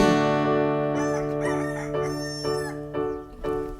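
A singer imitates a rooster's cock-a-doodle-doo during an in-studio band performance, the drawn-out crowing phrases sung loud and close over sustained instrumental chords.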